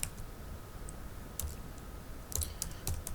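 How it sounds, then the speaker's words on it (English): Someone types text on a computer keyboard, with soft, scattered key clicks that cluster into a quick flurry near the end, faint and close over a low background hum. "If I type some text here"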